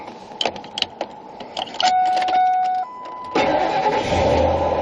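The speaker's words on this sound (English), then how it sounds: "So let's start up this truck." A 2006 Ford F550 truck's engine is cranked and catches after some clicks and a starter whine, then settles into a steady mid-pitched idle, close and fairly loud.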